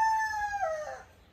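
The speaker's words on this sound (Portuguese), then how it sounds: "lá tá os galos" A rooster crows once, a single drawn-out call that slides downward and fades, heard at moderate distance in a quiet yard with hens nearby.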